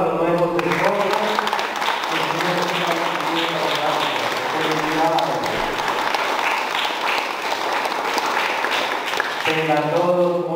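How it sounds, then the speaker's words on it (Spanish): Wedding guests applaud steadily throughout at a civil ceremony in Tula, Tamaulipas, with dense sustained clapping and a voice or music faintly running underneath. "Vamos a darles un fuerte aplauso a los nuevos testimonios."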